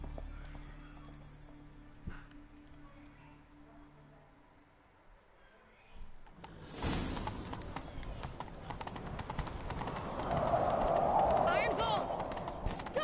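Horse hooves clip-clop in The Witcher 3, a steady run starting about midway and growing louder as the gallop builds, with a brief whinny and game ambience around it.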